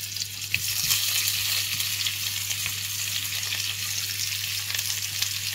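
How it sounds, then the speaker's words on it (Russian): Chopped onion fries in olive oil in a pan, giving a steady, close crackling sizzle that runs on its own without any talk. "Жарим наш лук, продолжаем."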